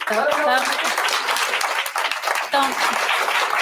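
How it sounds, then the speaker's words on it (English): An audience at a public meeting breaks into steady applause, dense and close throughout, with voices mixed in over the clapping. "Everybody give them a round of applause, please."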